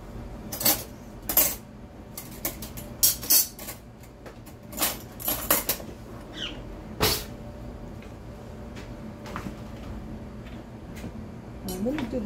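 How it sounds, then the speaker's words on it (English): A fork is pulled out and clinks against a bowl while mixing blueberry grunt dough to make it crumbly, giving scattered metallic clinks and clatters with quieter scraping between them. "I'm going to get a fork out here."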